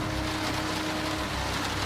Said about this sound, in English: It's hardcore rain.